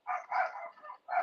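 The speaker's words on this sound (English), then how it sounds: "There's dogs barking" Dogs barking in the background: three short, faint barks in quick succession with brief pauses between them, and no one speaking over them.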